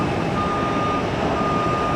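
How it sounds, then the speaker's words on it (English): Reversing alarm of a construction vehicle at an airport, a steady high electronic beep tone cutting through a constant broad rumble of engines and wind. "What's with the construction noise?"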